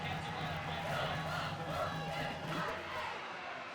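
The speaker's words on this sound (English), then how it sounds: "This crowd getting loud." A high school football crowd roars in the bleachers at a Springfield versus Winton Woods game on third down, a dense, sustained wash of cheering heard from a distance under a commentator's voice.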